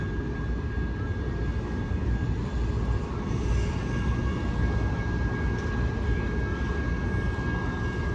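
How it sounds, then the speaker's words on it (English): Low, steady rumble of a freight train with a DPU locomotive drawing closer, a constant broad drone with a faint sustained tone riding on top, heard alone at moderate distance. "sounds like we got a DPU coming up"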